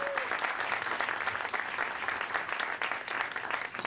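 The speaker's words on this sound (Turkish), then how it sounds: "Bir kere sizler için bir alkış alabilir miyiz lütfen?" A live audience at an evening talk event applauds together, a dense, steady wash of clapping from many hands heard at a moderate distance for several seconds.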